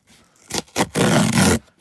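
Cardboard parcel pull tab being torn off, a short scrape and a brief rip followed by one longer, louder tearing stretch lasting under a second, close and alone without talk.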